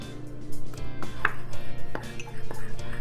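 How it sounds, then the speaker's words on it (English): A utensil scrapes and taps rhythmically against a bowl as powdered sugar and fresh lemon juice are stirred into icing, close and fairly loud, with quick repeated strokes and no talk. "we're going to have to mix that together or stir that for a little bit to blend this completely"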